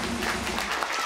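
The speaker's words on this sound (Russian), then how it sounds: "Друзья, под ваши аплодисменты!" Audience applause at a Pankration club event, a brief steady wash of clapping with no voices over it.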